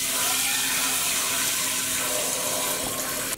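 Tap water pours steadily into a pot, a loud close hiss and splash lasting a few seconds before cutting off abruptly.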